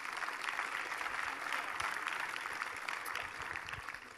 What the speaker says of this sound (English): I think a little applause would do us well